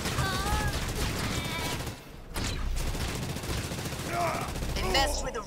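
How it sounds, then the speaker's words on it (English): Enemy infantry gunfire in a video game, rapid bursts of shots crackling steadily over a battlefield din, with game voices and radio chatter talking over the shooting. "I'm under fire from enemy infantry."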